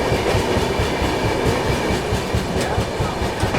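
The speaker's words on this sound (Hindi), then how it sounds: "चलिए निकल गई अपनी विभूति एक्सप्रेस दुर्गापुर रेलवे स्टेशन से।" Vibhuti Express passenger train running just after leaving Durgapur station, a steady loud rumble of wheels on rail with rhythmic clickety-clack of carriages heard from onboard, no talking.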